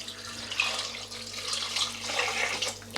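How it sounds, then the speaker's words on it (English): Boiled water, about three cups, is poured from a mug into a pot of lamb paya curry, giving a continuous splashing trickle with slight surges, moderately close and alone. "I'm now going to add 3 cups of boiled water"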